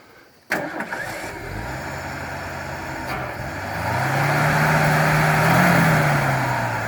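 A 1968 Ford F100 truck, left forgotten in the woods for 20 years, cranks and fires with a sharp catch, then settles into a steady mid-pitched idle that revs up louder toward the end, close by and with no talk.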